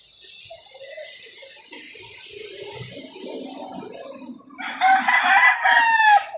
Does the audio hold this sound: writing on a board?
no